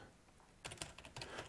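Quick, light clicks of typing on a computer keyboard during programming, starting after a short quiet moment and continuing as a rapid, uneven patter of keystrokes at close range, faint overall with no talking.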